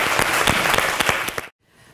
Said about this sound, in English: please join me in giving our panelists a round of applause to thank them for their great papers.